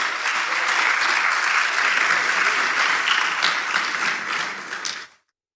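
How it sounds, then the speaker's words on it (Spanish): A church congregation applauds together, a dense, steady wash of clapping that holds at full strength for about five seconds and then cuts off abruptly into silence. "Denle un aplauso a la palabra de Dios."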